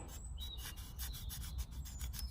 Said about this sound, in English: get yourself a pair of little secateurs, and what you need to do is find your raspberry cane, and all you have to do is just scrape up and down it